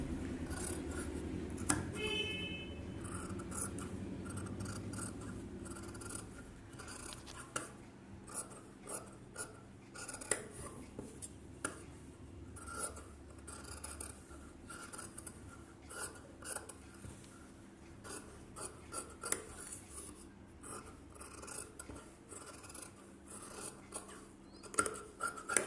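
Tailor's scissors cut blouse fabric in a long run of quiet, close snips and rasping slides, with no talking.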